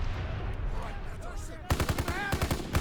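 BAR automatic rifle fire in Call of Duty WW2: a rapid burst of loud, rhythmic gunshots starts partway through after a muffled stretch of game ambience, with a voice talking quietly underneath.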